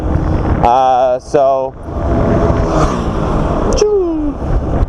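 Heavy wind buffeting rumbles over a slow-moving motorcycle's drone, while someone talks in bursts close to the microphone.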